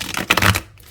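A tarot-style card deck with copper-painted edges being shuffled by hand, a short burst of riffling, papery flutter lasting under a second, close and fairly loud, with no talking.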